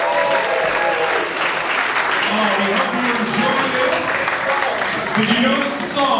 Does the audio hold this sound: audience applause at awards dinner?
yes